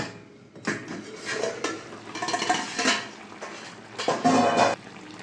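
A lid lifted off a pot of chicken stew with potatoes and papaya, clattering metal against metal in a few short clanks, close and moderately loud, with no voices.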